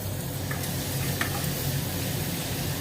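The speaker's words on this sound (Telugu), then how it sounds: "మష్రూమ్ సూప్ బాయిల్ చేసుకుందామండి." Mushroom soup boils in a pot with a steady, dense bubbling and simmering hiss, close and even throughout with no voices.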